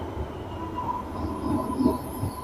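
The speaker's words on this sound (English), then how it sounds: "My train is here." A train pulls into a station, a steady low rumble of wheels and carriages close by with brief metallic squeals rising near the end, no talk over it.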